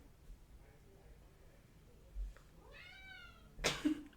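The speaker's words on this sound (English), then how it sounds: "Meowing" A single cat meow in a quiet room, preceded by faint rustles and followed by a brief sharp noise.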